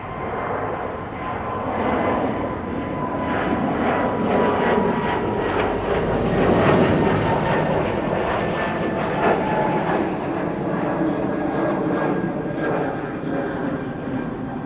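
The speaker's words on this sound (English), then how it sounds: "E2 Embraer to Aberdeen." An Embraer E2 jet departs Amsterdam Schiphol Airport with a loud, sustained engine roar that swells toward the middle and then slowly fades, steady and close throughout.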